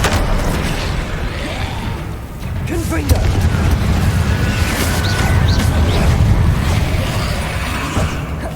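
Confringo fire-blast spell from the Hogwarts Legacy video game: loud, continuous booming rumble with dense crackling and bursts, a sharper hit near the middle, sustained throughout with a faint voice buried in the mix.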